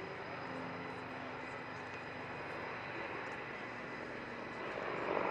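A T129 ATAK Turkish attack helicopter flies at a display, its steady engine and rotor roar holding near and constant, swelling slightly louder toward the end.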